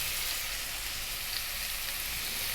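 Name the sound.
onion dropped into pan with beef, sizzling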